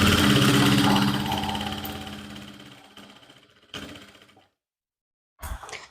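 A sewing machine stitches trouser fabric with a fine seam: a loud, continuous mechanical whir that slowly fades, then several short bursts of stitching separated by pauses and a brief silence.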